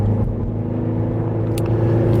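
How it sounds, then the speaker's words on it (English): A cold car's engine and drivetrain hum steadily while driving on the road, with a continuous low rumble and tonal drone; a subtle shift in pitch hints at a gear change, with no talking. "Car's still cold, you can hear it shift."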